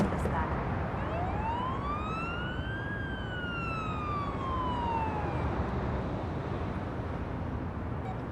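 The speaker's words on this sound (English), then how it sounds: "Use the siren as needed." An ambulance siren in the paramedic driving game Ambulance Life wails in one long rising and falling sweep over a constant engine and road rumble, loud and clear with no voices.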